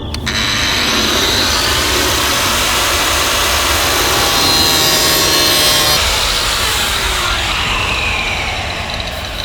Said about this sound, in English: I'm going to be using a small little grinder